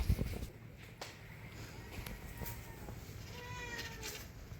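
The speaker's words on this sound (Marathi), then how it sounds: "आले रे, ही मांजर." A faint cat meow drifts in from a distance on a mountain, drawn out and thin, over a steady outdoor background hum.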